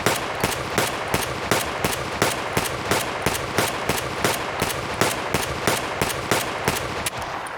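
Single-fire gunshots in Escape From Tarkov, a long series of sharp, loud cracks fired at a slowed but steady rhythm, roughly two per second, with no voices over them.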